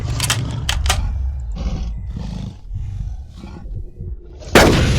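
Gunfire in the video game Carnivores: Dinosaur Hunter Reborn, several sharp loud shots in quick succession at the start and another heavy blast near the end, with roaring creature sounds between.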